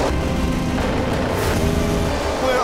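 MotoGP racing motorcycles at full throttle at the start of the race at Motegi, Japan, as a loud, continuous engine roar with a steady, dense drone and no voice above it.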